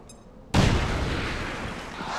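A frag grenade explodes in XCOM 2 with one sharp, loud blast after a brief quiet beat, followed by a long rumbling wash of debris that slowly fades.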